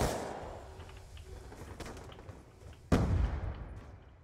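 Gunfire in a Black Ops II multiplayer match: muffled, distant shots under a steady wash, then one sudden loud close blast that decays slowly, with light voices barely present.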